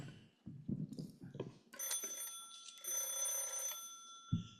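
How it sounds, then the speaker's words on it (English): A telephone bell rings in a continuous burst, opening a Nero Wolfe radio mystery drama performed live, preceded by a few brief knocks and shuffling noises and ending with a soft thump. "the ringing of that phone bell brings you Mystery Adventure"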